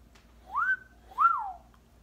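A person whistles two clear notes, a rising one and then a falling one, close and with nothing else audible.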